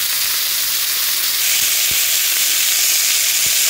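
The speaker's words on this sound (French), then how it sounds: "je vais faire griller mon oignon" Onion fries in a pot with a loud, dense, continuous sizzle close by, broken by a few soft knocks from stirring.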